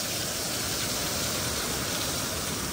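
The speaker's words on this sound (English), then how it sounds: "It's pouring down rain." Heavy rain pours down in a dense, loud, continuous hiss, drumming evenly on surfaces with no talk or pauses.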